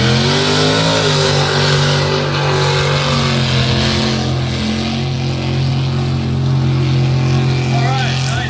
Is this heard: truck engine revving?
yes